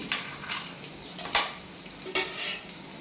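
Cashews frying in a little oil in a pan used for okra fry: a steady, faint sizzle with a few sharp clinks of a utensil scraping the pan, spaced about a second apart.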